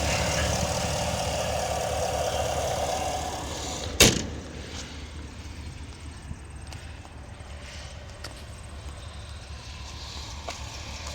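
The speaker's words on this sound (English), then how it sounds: "Here you can hear the engine's running great." Engine of a repairable salvage 2019 GMC Yukon XL Denali running at idle, a steady low rumble throughout with a single sharp thud midway, likely a door.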